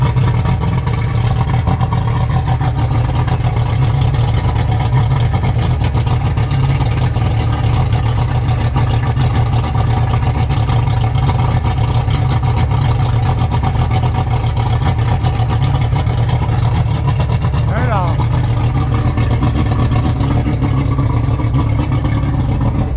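Boat engine running steadily after being started, a loud, close, constant droning rumble that holds level throughout with no talk, only a brief faint chirp near the end.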